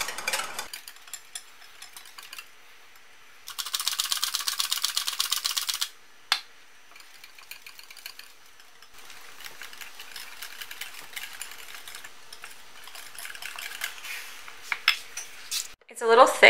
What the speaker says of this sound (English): Now I'm just mixing the flour in with the pumpkin spice mix, the liquid ingredients